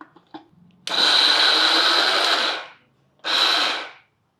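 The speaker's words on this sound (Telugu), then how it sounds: "ముప్పాతిగా గ్రైండ్ అయిపోయిందండి" A kitchen mixer grinder coarsely grinds soaked chana dal in two bursts, a loud, whining motor run of nearly two seconds, then a pause and a shorter second burst, after a few faint clicks at the start.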